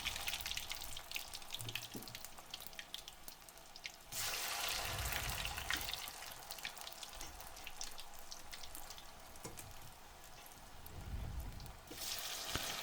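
Potatoes for patatas bravas drop into oil heated to about 175 degrees and fry with a steady, bubbly hiss and crackle that swells and eases, close and without voices.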